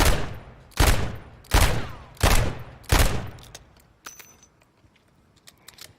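Rifle gunfire in Modern Warfare 3, five sharp, loud single shots at even intervals of about three quarters of a second, followed by fainter clinks and rattles as the shots fade out.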